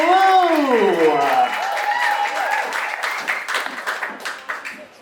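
A crowd applauds a contestant at an outdoor rockabilly pin-up contest in Wisconsin, the clapping rising beneath an announcer's voice and then carrying on alone in a scattered, fading patter.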